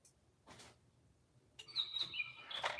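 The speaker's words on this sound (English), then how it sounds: "I hear you, bird." Small bird chirping in bright, thin repeated tweets, fairly faint and somewhat distant, after a short soft noise, with no one talking.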